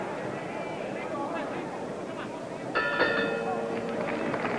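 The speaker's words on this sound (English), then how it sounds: "that's the bell for round 9" A boxing ring bell clangs to end round nine of a world light-heavyweight title fight in Las Vegas, ringing out sharply over a loud, steady arena crowd roar with commentary underneath.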